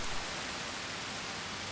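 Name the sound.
heavy rain on a wetland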